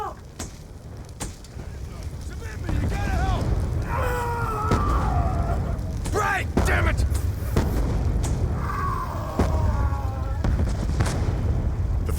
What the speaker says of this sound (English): The mortar fire means the MPLA is ready for attack.